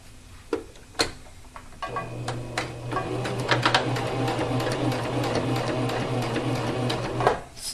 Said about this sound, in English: Remember, you need to back stitch